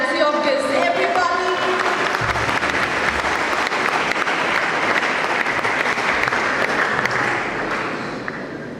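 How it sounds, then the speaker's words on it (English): Sustained, full applause from a school ceremony crowd welcoming guests at a World Space Week event, loud and continuous for nearly nine seconds before tapering slightly at the end. "A warm round of applause for our galaxy of guests, everybody."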